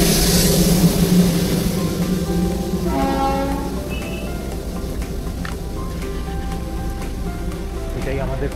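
Darjeeling toy train pulling out of Batasia Loop in heavy rain, a steady rumble of wheels and carriages with a horn-like tone, loud at first and then easing off, with people talking over it.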